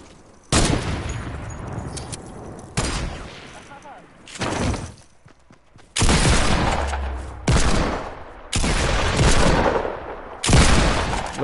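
Fortnite Battle Royale shotgun shots, a series of loud close blasts at irregular intervals with sustained bursts between them, and a voice briefly audible in the mix.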